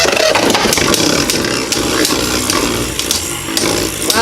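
Two Beyblades, Orb Aegis and Cho-Z Spriggan, battle in a stadium, making a loud continuous whirring grind with scattered sharp clicks of contact and no talk.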